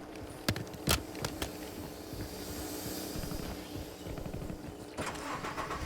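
A vehicle engine starts in the video game Warzone, giving a low, quiet rumble broken by a few sharp clanks and clicks, no talking.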